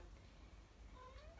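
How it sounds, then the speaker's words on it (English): A cat meows softly a few times, rising and drawn out, faint and close against a quiet background. "if you can hear my kitty meowing"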